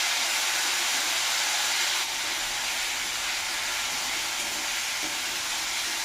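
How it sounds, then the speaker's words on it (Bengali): Spice paste of green chilli, Kashmiri chilli powder and cumin powder being sautéed in a pan for a small fish curry, giving a loud, steady frying hiss that runs unbroken throughout. "একটু ভালো করে কষিয়ে নিতে হবে।"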